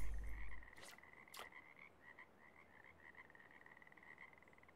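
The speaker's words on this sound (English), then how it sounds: "I hear frogs croaking." Frogs croak in the fishing game Russian Fishing 4, a steady, faint trilling chorus that runs throughout at a distance, opened by a couple of sharp splashy clicks near the start.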